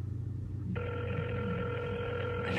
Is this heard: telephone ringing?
yes